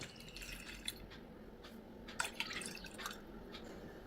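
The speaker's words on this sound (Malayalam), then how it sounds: "ഇനി 2 കപ്പ് ഇളനീർ വെള്ളം ഒഴിച്ചു കൊടുക്കാം" Soft trickling and dripping of tender coconut water being poured, quiet and close, with a few brighter splashy drips partway through.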